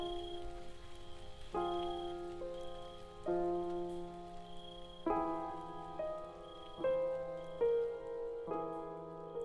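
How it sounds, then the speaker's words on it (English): Raindrops strike a bell, producing a series of soft, ringing metallic plongs at irregular intervals, each tone sustaining and overlapping the next in a quiet setting. "listening to the raindrops plong the bell"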